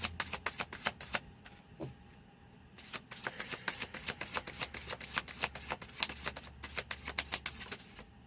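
Surrender oracle cards being shuffled by hand, a close, quiet, rapid riffling and slapping of cards in repeated bursts with a brief pause near the middle.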